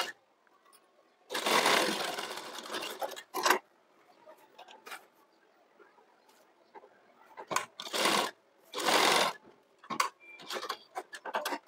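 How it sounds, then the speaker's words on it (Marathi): Sewing machine stitching the seam of a frilled umbrella sleeve, running in several separate bursts of a few seconds each, close and fairly loud, with quiet pauses between runs. "शिलाई मारून घ्यायची सरळ, म्हणजे आपली बाही जोडताना आपल्याला प्रॉब्लेम येत नाही."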